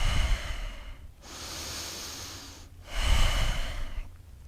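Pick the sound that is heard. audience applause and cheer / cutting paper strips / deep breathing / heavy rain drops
deep breathing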